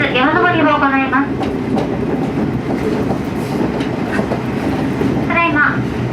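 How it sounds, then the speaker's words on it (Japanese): KiHa 47 diesel sightseeing train climbing a mountain switchback line on the Hisatsu Line, a steady rumble of running gear and wheels throughout, with voices heard at the start and end. "次に停車する矢竹駅は視察線の中で最も標高が高い場所にあるため、列車は少しずつ山登りを行います。"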